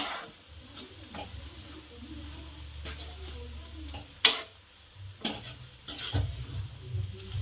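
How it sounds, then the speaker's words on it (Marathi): Spoon stirring methi and tur dal bhaji with sambar masala in a pan, with several distinct scraping strokes and soft clinks over a low bubbling sizzle, close and without talk. "थोडं मिक्स व्यवस्थित करून घ्यायचं सांबार आणि हे पण छान असं मिक्स करून घ्यायचं"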